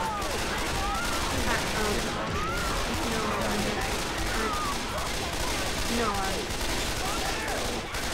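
Gunfire in Left 4 Dead 2 rattles continuously and loudly through the whole stretch, with dense overlapping shots and voices mixed underneath.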